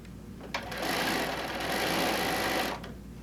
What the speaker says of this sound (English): we're going to sew straight on down.